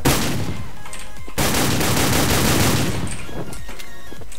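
Shotgun fire in a first-person shooter video game: loud, dense, rapid gunfire that continues for several seconds, with bursts overlapping into a continuous barrage and no talk over it.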